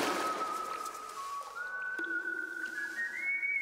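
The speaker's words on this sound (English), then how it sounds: "Someone's whistling" Someone whistling a tune in the horror video game Golgotha, set in sewers beneath a subway station, a single clear melody that rises gradually, faint and alone over quiet ambience.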